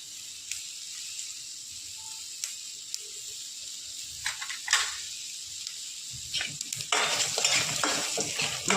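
Curry leaves frying in a pan for nalleru roti pachadi: a soft hiss with scattered crackles that swells into louder, busier sizzling and spattering toward the end, heard up close.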